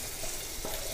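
Masala with tomatoes frying in a pan for chicken tikka biryani, a steady close sizzle with a faint stirring scrape.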